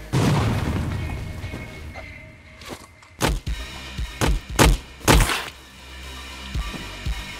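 Explosions in the video game Heart Abyss: a deep rumbling blast fades out, then four or five sharp, loud booms follow at irregular intervals, each with a short decaying tail.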